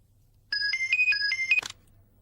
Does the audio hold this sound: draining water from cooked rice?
no